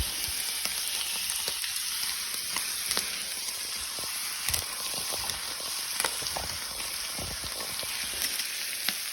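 Seasoned beef with Worcestershire, salt and ground pepper sizzles steadily in a pan, a dense continuous hiss with scattered crackles and pops throughout.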